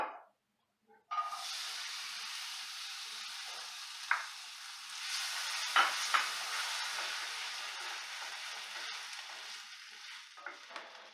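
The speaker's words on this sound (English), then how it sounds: "Now we're going to get our beans cooked off." Black beans sizzle and hiss steadily in a hot pan, a continuous close frying sound with a few soft stirring clicks and no talking.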